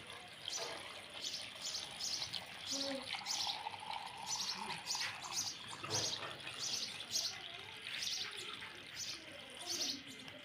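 Water runs steadily into a container nearby, with a faint bird chirping in the background and no talking.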